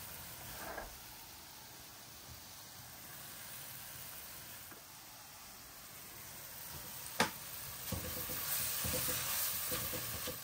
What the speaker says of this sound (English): So the first thing we're going to do is actually put some butter into my pan. Soften off the onions.